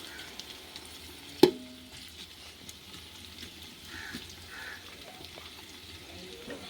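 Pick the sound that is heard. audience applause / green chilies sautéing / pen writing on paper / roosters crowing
green chilies sautéing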